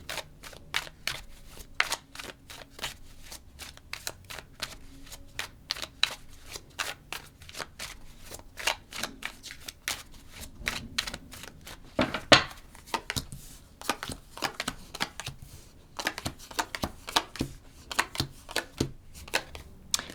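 Tarot cards being shuffled and pulled from a deck, a dense run of quick papery riffles and flicks with a few sharper snaps, close and continuous, with no talking.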